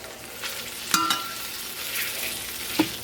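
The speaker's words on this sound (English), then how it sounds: "We do want to hear a little bit of a sizzle, not really loud, just a very quiet little sizzle." Quiet, steady sizzling of breaded chicken legs frying slowly in a pan, with a couple of brief clinks and sharper crackles, no voices.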